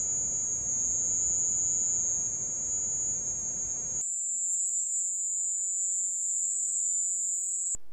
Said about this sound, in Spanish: este ruido común es muy parecido al ruido de una cigarra